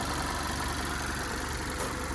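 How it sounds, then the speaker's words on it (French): A 2016 Mazda MX-5 2.0 Skyactiv four-cylinder engine running at a steady idle, heard up close with the bonnet open, a continuous even hum with no voices. "vous montrer le moteur pendant qu'elle tourne"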